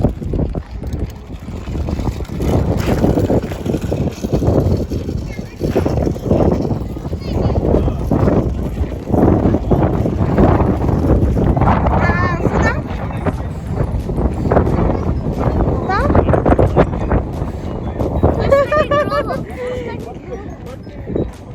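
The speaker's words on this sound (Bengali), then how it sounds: "সেই বাতাস" Wind gusts across a large open park field, rumbling and buffeting the microphone loudly and almost without pause, with some faint voices underneath.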